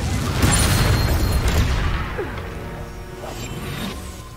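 A Confringo blasting spell from Hogwarts Legacy goes off with a loud, close, crashing boom that rumbles and then tails away into a softer whooshing decay.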